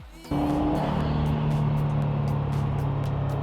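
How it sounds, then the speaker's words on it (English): A car engine starts up and settles into a steady, loud drone with a rising turbo boost whine over it, close by, with no talking. "you can hear the boost"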